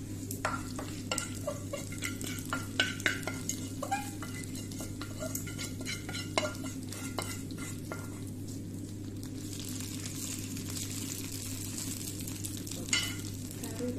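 Fried coconut mixture is poured into a pot of nadan erissery curry, giving a steady sizzle under repeated metal spoon scrapes and clinks as it is stirred on the stove.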